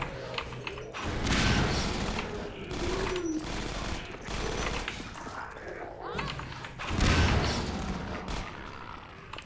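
Gunfire bursts and thudding explosions from the video game Half-Life 2: Episode One come in repeated loud clusters over several seconds, mixed with game noise and a voice talking between the blasts.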